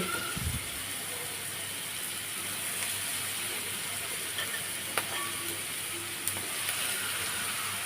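Potatoes frying with fish roe in a pan for a curry, a steady low sizzle running throughout with a few soft clicks and scrapes from stirring; no one speaks.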